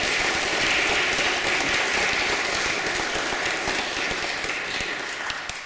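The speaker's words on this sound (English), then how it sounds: "I think Harry and Mary deserve another round of applause" Sustained applause from an evening audience honouring Harry and Mary at a homelessness speech event, dense steady clapping throughout that gradually tapers toward the end, with no talking over it.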